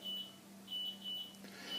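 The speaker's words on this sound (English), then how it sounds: "That's the oven beeping." Kitchen oven timer beeping in short, evenly spaced electronic tones, three or four repeated beeps over a steady low hum, fairly quiet and with no voices.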